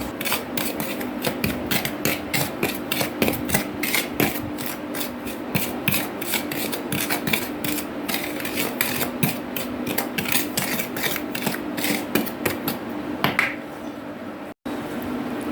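Donut mixture being stirred until evenly mixed, heard as a fast, steady run of scraping, rasping strokes against a bowl, close and continuous before a brief stop near the end.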